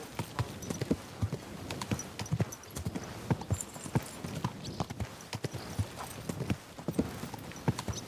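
Horse hooves clip-clop in a steady walking rhythm on hard ground in Kingdom Come Deliverance II, a medieval setting, with the evenly spaced, fairly faint hoofbeats continuing for several seconds.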